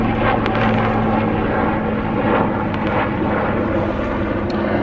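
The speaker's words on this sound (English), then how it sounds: "There's a helicopter coming up down the river" A helicopter flies along the Hudson River near Rhinebeck, a loud steady rotor and engine roar with a low droning hum that stays constant throughout, no voices.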